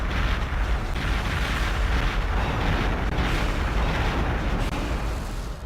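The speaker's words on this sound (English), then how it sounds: "This looks like a bunch of explosions are happening in the ship, but like nothing's getting destroyed." Explosions aboard a ship in the video game Perfect Dark, a dense continuous roar of blasts and rumbling booms, loud and sustained with no talk.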